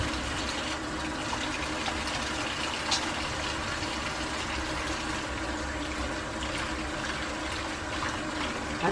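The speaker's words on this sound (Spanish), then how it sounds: "Aquí cuesta que nos caiga agua caliente." Water runs steadily from a household tap while washing up and hands are rinsed, a continuous near splashing gush filling the whole stretch without pause.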